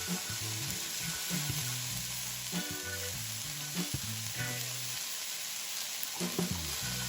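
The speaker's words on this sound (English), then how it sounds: "give the diced tomatoes a little saute" Diced tomatoes sauté in a pan beside okra, peppers and onions, giving a continuous close sizzle with faint stirring, while soft background music plays underneath.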